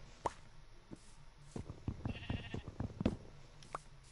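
Soft, short sheep bleats from Minecraft mixed with light clicks and plopping tones, quiet and close, with no voices.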